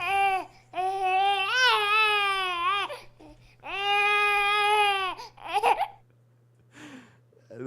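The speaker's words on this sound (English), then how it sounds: "That's a baby whining." Baby crying sound effect from a soundboard, long wailing cries rising and falling in two drawn-out bursts, followed by short whimpers and sobs, loud and close over a faint steady hum.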